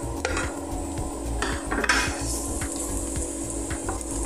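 Garlic and string beans sautéing in a pan for a Filipino ginisang sitaw dish give a close, steady sizzle, broken by scraping stirs and light clinks of a utensil against the pan. No voices.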